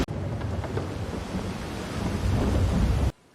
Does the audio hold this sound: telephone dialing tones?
no